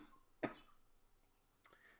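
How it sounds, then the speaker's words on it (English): A single sharp cough close by, followed by a fainter second cough, in a quiet indoor room with no talk. "There we go again with the cough."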